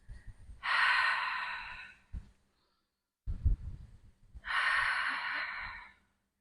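Two long, audible breaths taken during a Pilates reformer exercise, each a close, airy rush lasting about a second and a half, separated by soft thumps and creaks of equipment movement.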